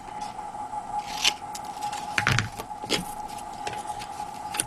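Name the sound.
cutting card along crossed lines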